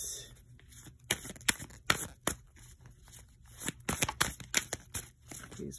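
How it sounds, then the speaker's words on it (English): A brand-new deck of tarot cards being shuffled by hand, giving a run of crisp riffling and flicking bursts with short pauses between, close and fairly quiet, with no talking. "So, I gotta shuffle these pretty well."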